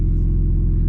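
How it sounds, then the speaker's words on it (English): A BMW E46 M3 with its S54 engine running with only a downpipe idles with a deep, steady, throbbing rumble from inside the car, loud and continuous. "I've always wanted to hear what this car sounds like with just the downpipe"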